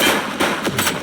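Gunfire in the police video game The Precinct: several sharp, loud shots in quick succession, with brief pauses between bursts and no talking.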